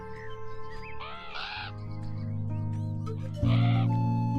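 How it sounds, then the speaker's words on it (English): Crows in the game Beyond Eyes give several loud, rasping caws in clusters, one early pair and another about three seconds later, standing out over a droning low ambience with no voices. "The crows mean business."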